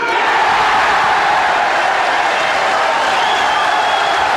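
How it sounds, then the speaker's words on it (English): A packed snooker crowd at the Crucible roars with cheering and applause, a dense, loud, unbroken wash of clapping and shouting that holds at full strength throughout. "The crowd here at the Crucible are going mad for Bradford's Joe Johnson."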